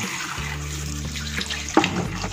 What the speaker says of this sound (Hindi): तो इसे मैं रनिंग वाटर में इस तरह से धो रही हूँ।